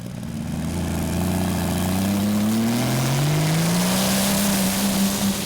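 A turbocharged pulling tractor, Bad Boys Stormy from Finland, roars steadily at a tractor pulling championship in Brande, Denmark, its engine note climbing gradually as it revs, loud and close throughout.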